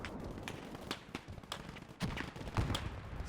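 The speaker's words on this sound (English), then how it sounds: "Slightly underwhelming sound for the Maxim." A Maxim machine gun fires in quick bursts of sharp, dull cracks in a modded Gates of Hell battle, with scattered gunfire continuing in the background.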